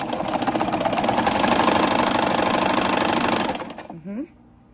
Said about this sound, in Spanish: Y así ya lo voy cosiendo.